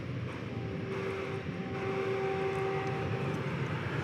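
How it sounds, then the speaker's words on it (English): Delta Airbus A320 airliner at DFW Airport on a summer morning, a steady distant jet engine whine with a thin tonal hum over broad rumble, moderately faint and continuous. "There is a Delta Airbus A319. No, it's an Airbus A320, sorry."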